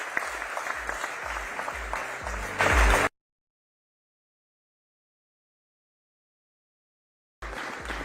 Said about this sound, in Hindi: जोरदार तालियां और इसी तरीके से तालियां बरकरार रखिए